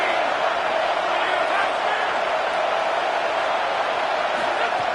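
A dense, steady roar of a large stadium crowd at a college football game against Georgia, loud and continuous throughout, with no break or pause.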